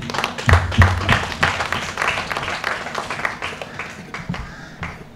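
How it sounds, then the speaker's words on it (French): An audience at a book dedication ceremony on a campus claps for the authors, a dense burst of applause that is loudest at the start and thins gradually over a few seconds. "s'il vous plaît, applaudissons tous ces auteurs, tous les acteurs du livre"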